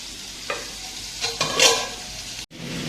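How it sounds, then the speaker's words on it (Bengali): Cut potatoes frying in a pan at home make a short, quiet sizzle with a few brief scraping stirs and one abrupt cut-off near the end, with no voices. "আবার মা আলু কেটে দিল সেটাকে এখন ভাজছি"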